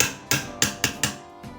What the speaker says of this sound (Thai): ประโยชน์ที่หนึ่ง ตอกไกลูกปืนพัดลม